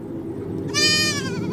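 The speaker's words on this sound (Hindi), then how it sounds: "इतनी रात को किसने बकरी का बच्चा छोड़ा होगा" A baby goat lets out one thin, wavering bleat at night, rising clearly above a low steady background murmur and trailing off after about half a second.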